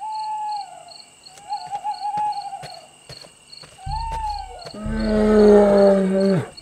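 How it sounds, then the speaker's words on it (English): A little owl gives several clear, close hoots in a nighttime woodland on Mount Olympus, with steady cricket chirps running underneath and a deeper, louder call swelling at the end. "Little owl, your enormous yellow eyes see everything."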